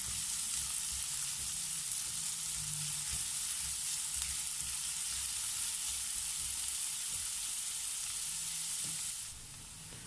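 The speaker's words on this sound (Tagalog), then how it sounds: "So, gisahin po muna natin ito hanggang sa ito ay mag-brown ng konti." Onion, ginger and chicken feet are sautéed in a pan for a chicken feet curry, giving a steady, even sizzle and crackle that continues throughout and drops slightly quieter near the end.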